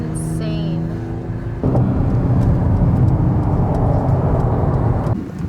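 A Lamborghini SVJ at a Christmas car rally on a closed road, its engine roaring loudly and steadily nearby for several seconds after a lower rumble at the start, with voices mixed in.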